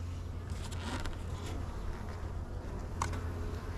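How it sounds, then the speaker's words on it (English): Honeybees buzzing around an open weak hive during an inspection, a soft continuous drone with a few brief rustles and knocks, fairly faint and without voices. "Seems like a decent amount of bees-ish."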